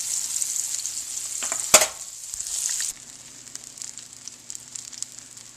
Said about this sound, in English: This is the second set of veal brain that I put in the frying pan.